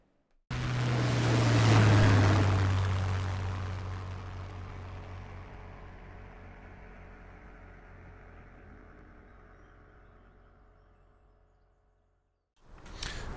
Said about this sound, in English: it's tad on the windy side out here at Blackbushe